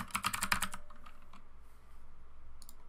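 Quick, crisp clatter of keys typed on a computer keyboard, a fast burst of close keystrokes followed by a quiet pause and a few last taps.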